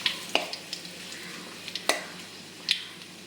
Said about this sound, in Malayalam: ഒന്ന് ഇളക്കി കൊടുക്കാം